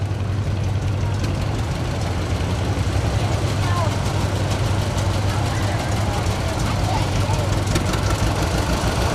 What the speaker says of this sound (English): Following Wyatt is a 1953 John Deere 60 tractor driven by Aaron Helmer.